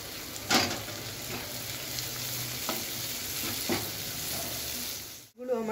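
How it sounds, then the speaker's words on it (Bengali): Chopped vegetables fry in hot oil for spicy Bengali-style noodles, giving a continuous soft sizzle broken by a few sharp scrapes and taps of a spatula, ending with a short clatter. "সবজিগুলোকে আমি তেলের সঙ্গে 2-3 মিনিটের মতো ফ্রাই করে নেব।"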